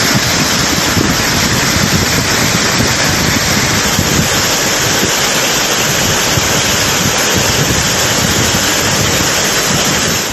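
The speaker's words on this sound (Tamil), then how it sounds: "கனமழையால் குற்றால அருவிகளில் கடும் வெள்ளப்பெருக்கு ஏற்பட்டுள்ளது" The flooded Courtallam waterfalls in the Western Ghats, swollen by heavy rain, make a dense, loud, unbroken roar of rushing water with no pauses or other sounds.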